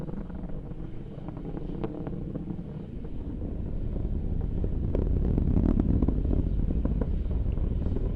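Atlas V rocket climbing after launch, a deep continuous roar with low rumble and wind buffeting that grows louder toward the end, heard from a distance with no voices.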